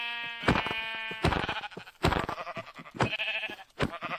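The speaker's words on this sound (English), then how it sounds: "There is a brown sheep, which is good." Bleats from a brown sheep in a video game: several loud, drawn-out calls in quick succession, each standing alone with no talk over them.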